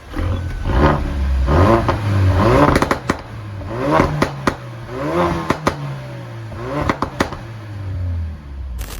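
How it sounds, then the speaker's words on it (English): A stock Ford Focus RS Mk3 exhaust revs up and down in repeated rising and falling sweeps, with sharp crackling pops and bangs between revs, loud and close. "That factory exhaust sounds quite nice. It has some factory pops and bangs,"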